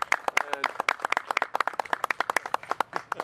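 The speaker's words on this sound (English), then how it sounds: "Can you join me one more time in a round of applause for our ambassadors?" Audience applause at a press conference, a short burst of scattered claps from a small group, fairly close and crisp.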